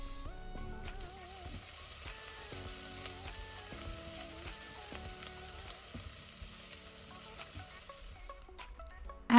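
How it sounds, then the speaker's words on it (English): Onion, celery, sausage, thyme and paprika sizzling in a pan, a continuous quiet frying hiss with faint crackle, ending in a brief louder knock. "Then add the onion, celery, sausage, thyme, and paprika and cook until the vegetables are almost soft."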